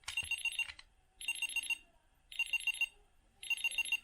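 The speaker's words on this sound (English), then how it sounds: "until eventually you beat the game and the victory sound plays." A bright electronic chime plays in four short repeating bursts separated by brief gaps, like a beeping jingle, as a Sonic video game victory sound.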